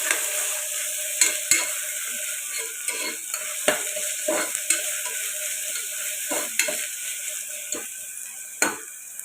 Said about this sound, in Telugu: ఒక పెద్ద స్పూను అల్లం వెల్లుల్లి పేస్ట్ అయితే వేసుకున్నాను ఇప్పుడు ఇది పచ్చివాసన పోయేదాకా ఫ్రై చేసుకున్నాను